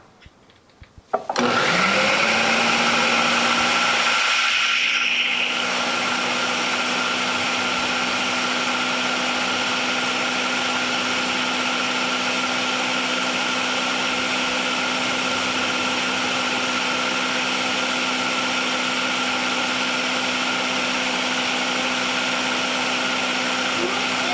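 Blender pureeing chocolate avocado pudding switches on abruptly and runs loud and steady for over twenty seconds, its motor whine briefly shifting pitch as the mixture settles, with no talk.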